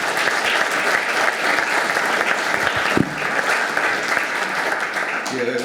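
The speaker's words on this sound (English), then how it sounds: "Could I just have another round of applause for our 4 candidates" Audience applause for four candidates at the close of a Manawatū Standard candidates debate, a dense, steady round of clapping filling the room, with a voice starting to speak over it at the very end.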